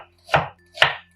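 Two crisp knife strokes chop through onion on a cutting board while fried rice ingredients are prepared, each a sharp close thud with a bright crunchy edge, spaced about half a second apart in an otherwise quiet kitchen.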